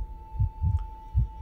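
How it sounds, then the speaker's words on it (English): A slow, muffled double-thump heartbeat from the horror video game True Fear: Forsaken Souls throbs low under a steady tone, about three beats in quick succession, with no one talking. "No, not the heartbeat thing again."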